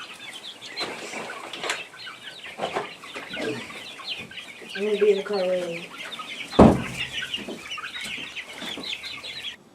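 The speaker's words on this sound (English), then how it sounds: "We brought this Rhodon red hen up from the barn" Rhode Island Red hen, lethargic and sick, clucking in short repeated bursts close by, with a flutter of wings and a sharp knock partway through, while a person speaks briefly.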